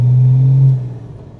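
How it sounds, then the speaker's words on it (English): A diesel engine in a modified Ford Granada with a BMW engine and air suspension rumbles in a deep, loud, steady tone that drops off after under a second. "It does sound nice, mine, doesn't it, for a diesel?"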